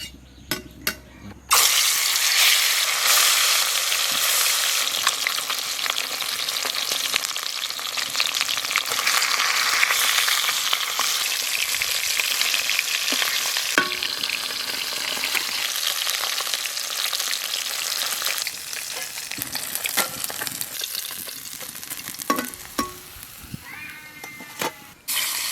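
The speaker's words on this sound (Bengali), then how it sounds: "এই মাছগুলো ভাজা হয়ে গেছে" Fish sizzles and spits steadily in hot oil in a kadai as a Santali grandmother cooks fish curry, a loud, continuous crackling fry with occasional stirring clinks and no talk.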